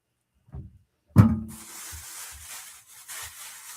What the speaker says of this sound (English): Sorry for the bag noise.